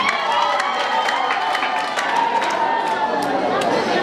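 A church congregation at a celebration breaks into sustained applause mixed with cheering and crowd chatter, a dense, steady wash of clapping that stays loud throughout.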